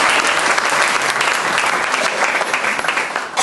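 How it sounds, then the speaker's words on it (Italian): Dense, loud applause from a crowd at a political gathering, a steady wash of many hands clapping together that holds without pause throughout. "farei un applauso anche di incoraggiamento"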